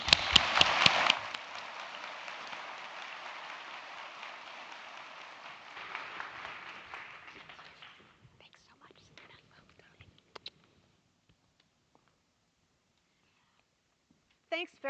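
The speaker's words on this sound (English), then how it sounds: "please join me in a round of applause to bring her on" Applause from a conference audience at a plenary session, loud dense clapping that thins and fades over several seconds into near silence, followed by a brief voice at the very end.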